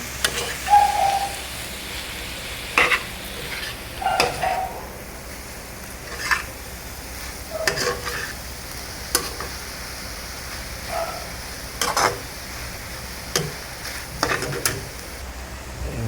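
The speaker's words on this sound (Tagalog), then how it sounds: "Halu-haluin ulit. Halu-haluin." Chicken seasoned with crushed black pepper sizzles softly in a pan. A spoon stirs it in separate scraping strokes every second or two over the low, constant frying.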